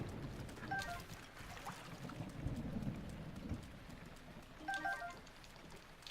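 A thunderstorm in Zelda: Breath of the Wild brings a lightning strike with a low rolling rumble of thunder over steady, faint rain. Quiet crackles sound at the start and again near the end.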